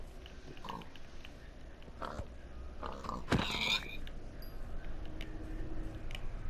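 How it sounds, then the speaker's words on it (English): A pig in the Minecraft video game lets out a short grunt partway through, heard over a steady low background hum. "I think maybe it's a pig."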